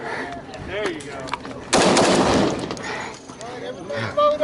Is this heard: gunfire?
yes